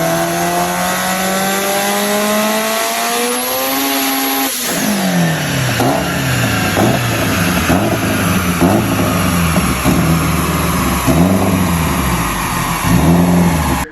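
A 1100whp Subaru STI engine on a dyno, revving up steadily in rising harmonic sweeps, then dropping into repeated loud revs and throttle blips, close and sustained with no talk.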